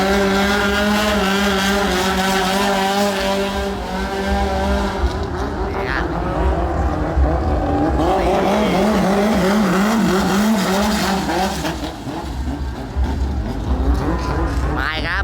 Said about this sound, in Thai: เขาเรียกเรือหางยาวนะ